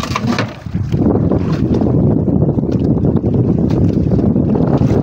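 Strong northeast monsoon wind blows at sea, recorded from a boat, a loud continuous roar of gusting air buffeting the microphone with surging water and boat noise beneath.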